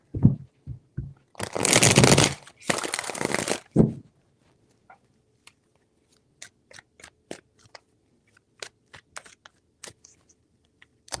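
Tarot cards are shuffled in two loud riffling bursts, then a scattering of sharp separate taps and clicks as the deck is handled, close and with no voices.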